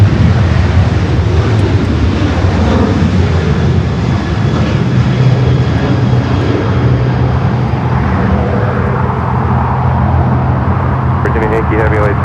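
Airliner jet engines at LAX rumble as the plane begins to taxi, a steady loud low drone filling the scene with some road traffic mixed in; no speech over it.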